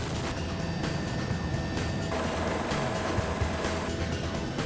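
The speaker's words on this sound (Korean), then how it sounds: "헬기를 타는 순간 대원들의 임무는 시작된다." Rescue helicopter of a 119 special aviation rescue team, heard from inside the cabin during a training flight: a loud, steady rotor and turbine roar that fills the whole clip, with a shift in tone about halfway through.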